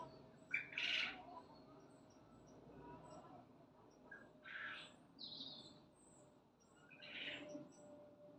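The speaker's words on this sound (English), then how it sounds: "Listen to the birds." Birds chirp and sing in short bursts in a garden, a few calls standing out over quiet background noise and a faint steady hum.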